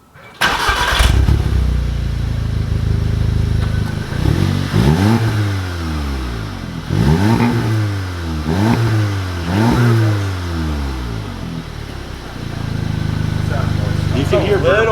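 A VW Golf R with its exhaust resonator deleted cranks and starts, settles into a loud idle, then gives several sharp revs that rise and fall in quick succession before easing back to idle, with voices faintly under it.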